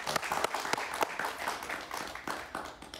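An audience in a television interview studio claps for an arriving guest, a quiet but steady patter of applause with a few sharper claps, fading toward the end.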